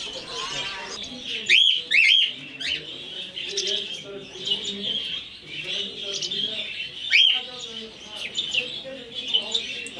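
Many parakeets chirp and twitter together at an Overijssel parakeet club show, a dense, continuous chatter of bright calls with a few louder squawks, heard over a low indoor murmur.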